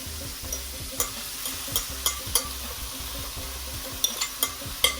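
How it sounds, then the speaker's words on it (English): Marinated meat hits browned onions in a pan for karahi gosht, sizzling steadily with repeated sharp clinks and scrapes of stirring, close and moderately loud. "So I'm gonna put my marinated meat into this."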